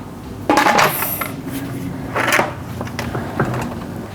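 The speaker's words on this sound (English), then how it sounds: "Place your ribs in the Instant Pot." Ribs are set into an Instant Pot, giving a few close clunks and metallic knocks against the inner pot with brief scraping between them, and no talk.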